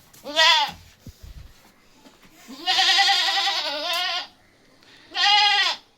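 A dairy goat bleats three times, close and clear: one short call, a longer wavering bleat, then another, with quiet pauses between them.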